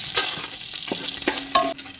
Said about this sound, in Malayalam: ഇനി ഇതിനുള്ള ചേരുവകളൊക്കെ ഇതിലേക്ക് മൂപ്പിച്ചെടുക്കാം